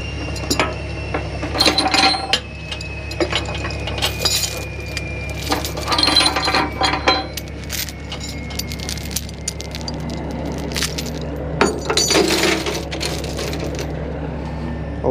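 Chain binders being ratcheted and handled while chaining an excavator down to a lowboy trailer, giving repeated metallic clicks, clinks and chain rattles in uneven bursts over a steady low engine drone.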